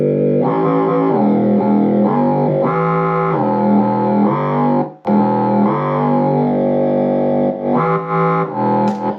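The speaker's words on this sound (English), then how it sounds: "This sound, it uses the filter, and it creates a different kind of texture." A distorted, filtered synth riff from a techno remix plays loudly, with repeating chord stabs and a low-pass filter sweep shifting the texture, briefly cutting out midway before continuing.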